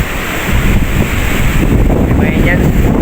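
Strong sea waves crash and roll onto a beach, with fishing boats pulled well back from the water, while a steady northeast monsoon wind buffets the microphone in a dense, continuous roar.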